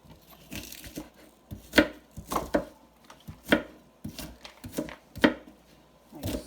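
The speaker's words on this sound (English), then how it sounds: "I start to slice the onion already, so I'm just going to finish" Knife slicing through a white onion on a cutting board, with about a dozen irregular crisp cuts and taps, close and fairly quiet, with no talking.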